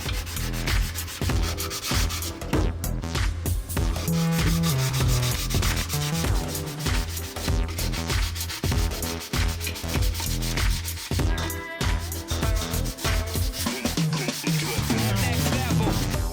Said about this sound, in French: Je fais aussi un peu de ponçage manuel pour les finitions.